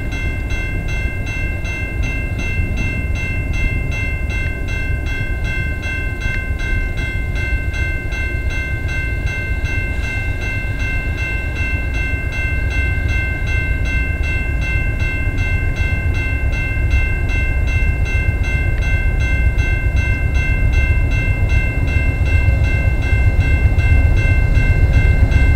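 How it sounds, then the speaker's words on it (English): A VIA Rail passenger train hauled by a P42 locomotive rumbles past close by, a loud continuous roar of wheels and engine with a steady rhythmic clatter that lasts throughout. "here comes a via rail train."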